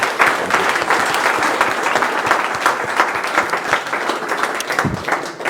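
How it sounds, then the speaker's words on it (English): A conference audience applauds Luca and the volunteers who organised the event: dense, steady clapping from a sizeable crowd, fairly loud and sustained for several seconds, with no talk over it. "let's make a round of applause to Luca and to all the other volunteers that made this conference possible"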